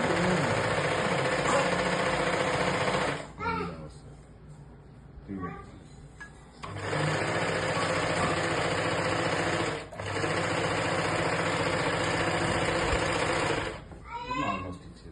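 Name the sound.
sewing machine stitching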